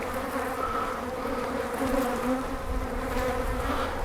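A swarm of wild-caught bees buzzes densely and continuously at close range, a steady layered hum of many insects with no speech over it.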